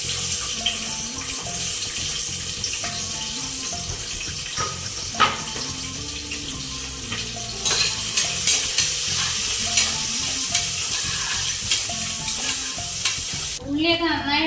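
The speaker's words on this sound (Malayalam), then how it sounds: "ഉള്ളിയൊക്കെ നന്നായി വഴഞ്ഞു വന്നിട്ടുണ്ട്." Chopped onions fry in a pan with a continuous, close sizzle and stirring scrapes throughout, and running water splashes faintly in the background, with no talking.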